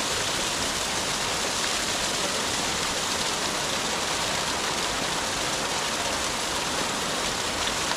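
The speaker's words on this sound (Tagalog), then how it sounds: "Dito tayo ngayon sa ilog." Shallow river flowing steadily near a campsite in Magdalena, Laguna after heavy rain, a constant dense rushing hiss of water with no breaks and no voices.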